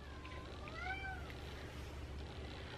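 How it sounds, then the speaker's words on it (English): A cat meows at a door, several short rising and falling cries close together near the middle, fairly faint over a low background hum. "Apparently my cat is meowing at the door."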